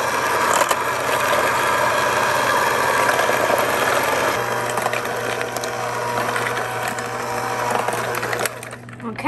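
An electric mixer beats cookie dough for strawberry pumpkin cranberry oatmeal cookies, its motor a steady whirring drone that shifts pitch partway through before cutting out at the end.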